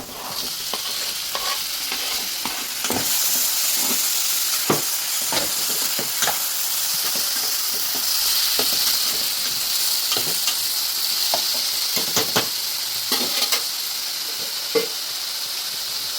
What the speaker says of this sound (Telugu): ఇప్పుడు మనం ఇందులో టమాటాలు వేసుకుందాం.